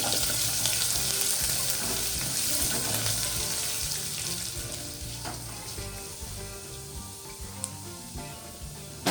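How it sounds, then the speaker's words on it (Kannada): Grated raw ginger sizzles steadily in hot oil, a dense, even frying hiss that runs close and unbroken throughout, with occasional faint clinks of a utensil against the pan. "ಹಾಗೆ ತುರಿದಿಟ್ಕೊಂಡಿರುವ ಹಸಿ ಶುಂಠಿ ಇವನ್ನ ಹಾಕ್ಕೊಂಡು ಎಣ್ಣೆಯಲ್ಲಿ ಒಂದು ಸ್ವಲ್ಪ ಫ್ರೈ ಮಾಡ್ಕೊಳ್ಳಿ."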